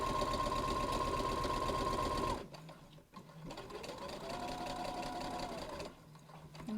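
A sewing machine stitches festive drawstring bag fabric in rapid, steady runs with a rising and falling motor whine, pausing briefly between passes, close and loud.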